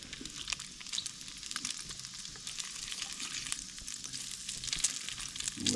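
Bacon fries in a pan over a campfire with a steady, crackling sizzle of dense pops and spits, moderately quiet and continuous, with no voices.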